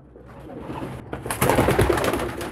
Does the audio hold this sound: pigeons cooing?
yes